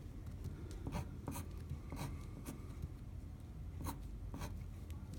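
Writing on a board while sketching chemistry structures: faint, irregular taps and short scratchy strokes over a quiet room hum, with no talking.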